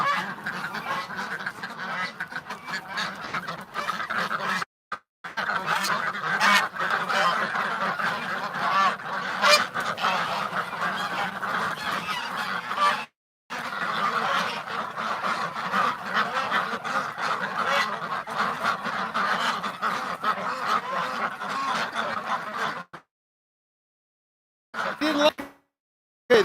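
Ducks and geese near a barn on a freezing December day set up a dense, continuous chorus of close honks and quacks, broken by a few short silences.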